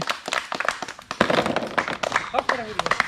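Scattered hand claps and taps at a ball-and-bottle knocking game, irregular and close, with people talking over them.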